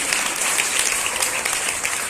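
Applause from students and guests at a school, a dense, steady round of clapping from a roomful of people, sustained and fairly close.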